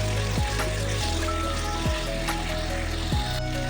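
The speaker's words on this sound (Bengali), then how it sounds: "1 চামচ লবণ দেব, দিয়ে ভালো করে ভাজবো।" Soft malai paneer cubes frying with salt in a hot pan, a steady loud sizzle with periodic low thumps as the cubes are stirred and turned.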